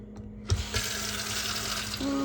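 Fresh ginger, garlic and onion are rinsed under a running kitchen tap for a Ghanaian goat meat light soup: a short burst of splashing water that starts abruptly and then flows steadily up close.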